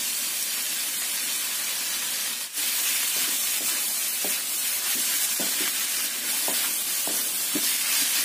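Diced carrot, beetroot and chicken sauté in a pan for a red soup, a constant bright hiss of sizzling with soft intermittent stirring taps, no talking.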